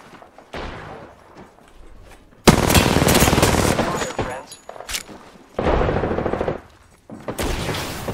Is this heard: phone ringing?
no